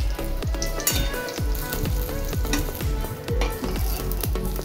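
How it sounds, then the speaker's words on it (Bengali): Fish pieces frying in oil give a continuous close sizzle, broken by repeated sharp clinks and scrapes of a utensil stirring in the pan. "এগুলোকে ভেজে নেব।"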